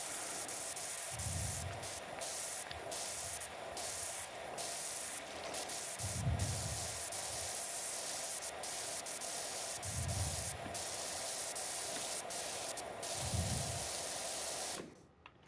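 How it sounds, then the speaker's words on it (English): A pressure washer with a green nozzle sprays in PowerWash Simulator 2, giving a steady hiss throughout with faint low thumps every few seconds, then cutting off abruptly at the end; no talking. "let's go to our green nozzle here and spray this off"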